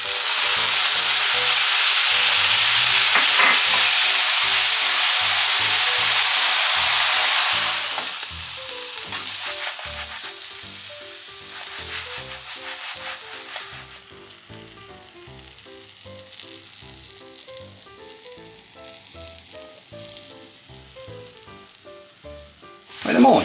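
Teriyaki sauce poured over pan-fried frozen tofu steaks erupts in a loud, steady sizzle that fades after several seconds into a softer, crackling fry with faint stirring clicks, ending with a sharp knock.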